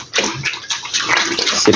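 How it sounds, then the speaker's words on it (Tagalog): Water pours and splashes onto dry pig feed in a trough, a loud, close, continuous rush with sloshing for a couple of seconds. "tapos saka natin bubuhusan ng tubig"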